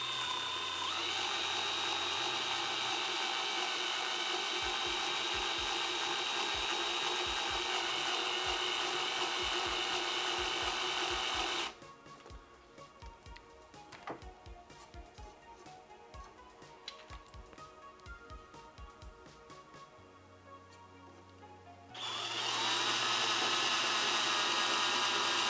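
A power tool shaves material off a little at a time while fitting a glass bed to a Monoprice Select Mini 3D printer. It whines steadily and close, drops to quieter scraping and clicks midway, then the whine resumes.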